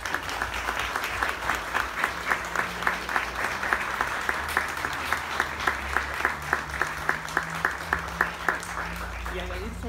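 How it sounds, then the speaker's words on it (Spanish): Audience applause at a book presentation for a self-help guide, steady clapping from a modest crowd with individual claps standing out in a regular rhythm, sustained for about ten seconds at moderate level. "Le damos un gran aplauso"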